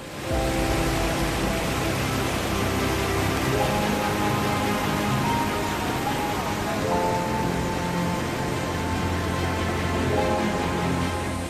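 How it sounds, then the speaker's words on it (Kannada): Heavy rain pours steadily over rural Chikkaballapur and Bengaluru in Karnataka, a dense, even roar of falling water that stays loud and unbroken for the whole stretch, with no voices. "ಸ್ವಾಭಾವಿಕ ಮಳೆಯೇ ಸುರಿಯುತ್ತಿದೆ"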